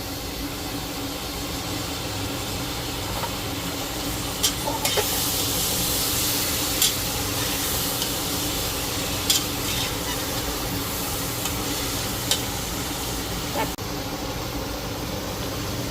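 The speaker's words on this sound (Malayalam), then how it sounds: "ഇനി നമുക്ക് 4 തക്കാളി ചേർത്ത് കൊടുക്കാം" Tomatoes sauté with softened onions in a pressure cooker for Thalassery fish biryani, a steady close sizzle broken by occasional sharp clinks of a stirring spoon against the pot.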